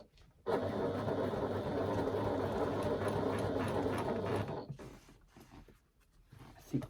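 A sewing machine stitching a seam with a 3/8 inch allowance runs in one continuous fast whirring burst for about four seconds, then stops, leaving light handling noises.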